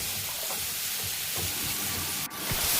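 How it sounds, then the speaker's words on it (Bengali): Ash gourd being stirred in a frying pan in a village kitchen, a steady soft sizzle with faint scraping strokes of the spatula, continuous and close, no talking. "কিছুক্ষণ ভালো করে এটা নেড়ে নেব।"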